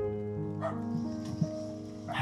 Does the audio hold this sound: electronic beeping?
no